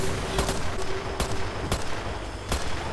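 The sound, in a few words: gunshots in Sniper Elite VR video game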